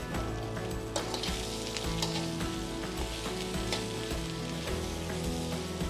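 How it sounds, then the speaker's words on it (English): Napa cabbage and peppers stir-fry in a hot pan for Filipino noodles, a steady loud sizzle with scraping and tossing sounds running throughout, no talking. "As we're cooking it, we're going to add in our Napa cabbage."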